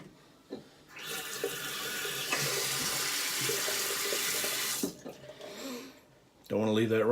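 Water runs steadily from a tap for a few seconds as a broad rushing hiss, starting and stopping abruptly, with speech before and after it.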